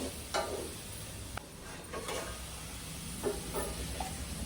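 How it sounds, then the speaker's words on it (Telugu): Salted onions for a crab curry fry in a pan, giving a soft steady sizzle broken by a few sharp scrapes and taps as they are stirred now and then. "ఉల్లిపాయ మాడిపోకుండా ఉండేట్టు చూసుకుని చక్కగా కలుపుతూ ఉండాలన్నమాట"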